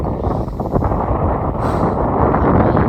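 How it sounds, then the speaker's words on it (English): Cold wind blows outdoors, a loud, constant rumbling buffet across the microphone with no pauses. "The wind is, I wouldn't say icy, it is just cold."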